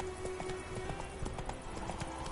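Roach the horse trotting in The Witcher 3, a quick run of clip-clopping hooves close by over a background of music.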